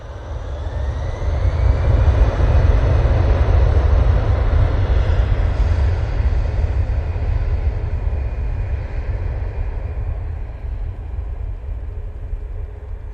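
An EasyJet airliner at Manchester Airport passes with a deep, steady jet engine roar and a faint high whine, building early and then gradually receding.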